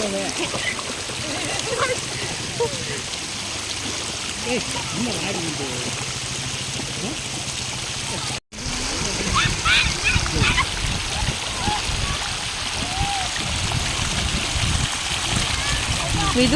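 Children play in water, splashing and sloshing in a steady, close wash of splatter and trickle, with excited voices talking and calling over it throughout.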